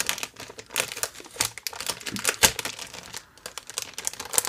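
Sheets of 30 by 30 cm scrapbooking paper from purchased kits are handled up close, giving irregular crinkles, rustles and soft crackling bursts with brief pauses and no speech.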